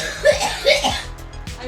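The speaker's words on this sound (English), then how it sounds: "Sorry, the director was coughing." A person coughs a couple of times in quick bursts, close and fairly loud, with a brief throat-clearing, laugh-like quality.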